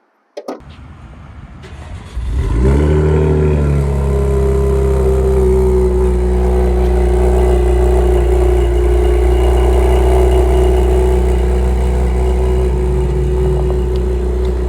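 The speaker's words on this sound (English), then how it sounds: "That's got that good rumbly noise. I mean, for a V6." A Cadillac CT5-V with a V6 cranks and fires after a brief mechanical click, catching with a sharp rev before settling into a steady, deep, rumbling idle that holds loud and close for over ten seconds.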